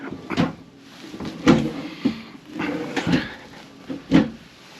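Extension drawers in a 2024 Forest River East to West Entrada 2200S Class C motorhome slide and bump shut several times, a series of short knocks and rolling scrapes close by.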